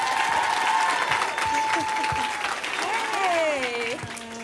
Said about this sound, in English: let's give a warm hand of applause for Miss Rashida Jones